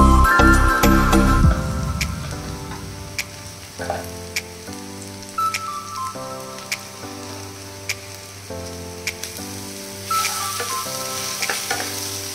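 Ground turmeric, chili and other spice powders frying in oil for a spicy dry Bombay duck dish, a loud, steady sizzle with occasional stirring scrapes under background music.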